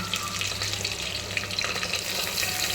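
Ginger and garlic frying in a pan for sambar, alongside drumsticks, giving a steady, close sizzle with stirring scrapes throughout and no talking.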